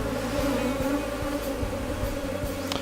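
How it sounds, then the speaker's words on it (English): Honey bees at an open beehive in Madagascar give off a close, continuous buzzing drone, with individual bees zipping past in brief louder swells above the steady hum. "You can see the worker bees going in and out of the comb, cleaning, feeding, depositing pollen, nectar."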